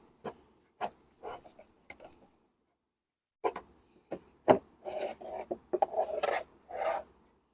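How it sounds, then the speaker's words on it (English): Plastic airbox of a 2005 Porsche Cayenne 3.2L V6 being opened by hand: scattered close clicks and scraping rubs, a pause, then a busier run of rattling plastic scrapes and knocks, with no talking. "Now we can open the airbox."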